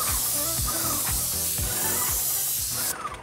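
A paint sprayer applying primer gives a steady, loud, close hiss that runs unbroken for a few seconds, then cuts off abruptly near the end.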